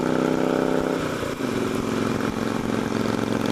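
New motorcycle being run in, its engine droning steadily up close with a throbbing mid-pitched note and a slight dip and shift in tone partway through.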